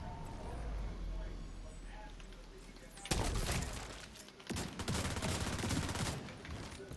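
Gunfire from the S90 shotgun in The Division 2 video game, with heavy blasts in quick bursts and surrounding battle noise, loud and close.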